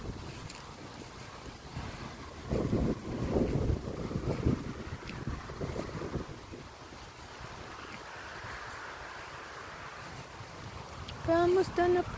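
Outdoor wind buffets the microphone during a walk home, a rough, gusting rumble with louder bursts, while a person talks over it and tonal voices come in near the end.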